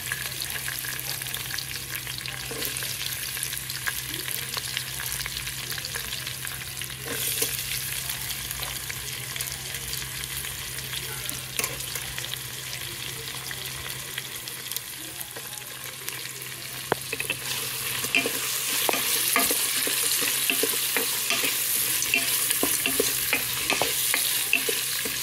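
Chopped onion pieces fry in a pan for veg pulao while being stirred, a continuous close sizzle with scattered scrapes and clicks from the utensil, growing slightly louder and brighter toward the end; nobody speaks.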